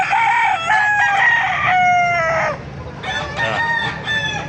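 Chickens and roosters at the Baliuag tyangge market crow loudly and close by, with overlapping cock-a-doodle-doo calls and clucking over a low background murmur.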